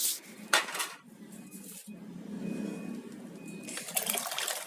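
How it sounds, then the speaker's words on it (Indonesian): Onion peel soaking in fish pond water being stirred in a container, a steady wet sloshing and scraping with a couple of sharper clinks, close and alone. "Nah, di sini diaduk-aduk."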